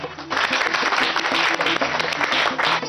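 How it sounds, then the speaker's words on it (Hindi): A group applauds in steady, dense clapping for nearly three seconds, loud and close, with some voices mixed in underneath. "बजाओ ताली।"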